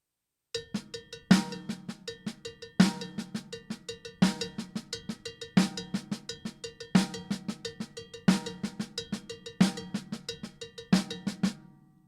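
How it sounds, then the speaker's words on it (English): A crisp, steady drum set pattern of rapid paradiddle strokes with snare accents on 2 and 4, clanging and bright, played without any talking. "you'll keep the paradiddles going and then start accenting on 2 and 4"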